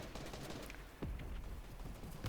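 Rapid gunfire in the video game Fortnite, a dense burst of shots over a steady loud game mix, with one deeper boom in the middle.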